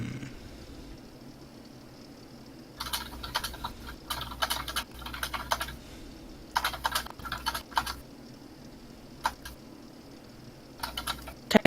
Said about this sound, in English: apparently people like listening to me type